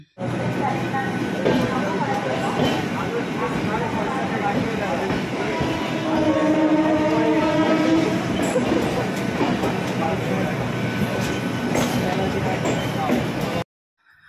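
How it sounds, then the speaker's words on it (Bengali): A train departing Howrah station for Guwahati rumbles and rattles steadily with a dense, continuous roar, voices murmuring underneath throughout before it abruptly stops. "হাওড়া থেকে ট্রেনটা ছাড়লো পাক্কা 4টের সময়"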